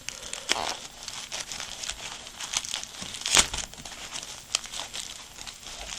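Plastic wrapping on new twisty puzzle packages being cut and peeled open with a knife, giving close, quiet crinkling and tearing with a few sharp crackles, no talking.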